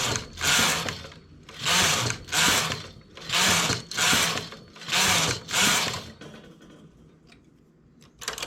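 Knitting machine carriage sliding back and forth across the needle bed while knitting rows for a lace sleeve detail, six rhythmic rasping passes about a second apart, close and loud, then quiet clicks at the end.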